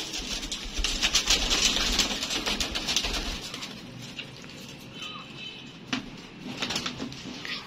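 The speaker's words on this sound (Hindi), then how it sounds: "दोस्तों ये मिस्सा कबूतर है माशाल्लाह" Pigeons, including a Misa pigeon, cooing softly in a loft amid steady low rustling and occasional wing flutters, close and continuous, with no talking.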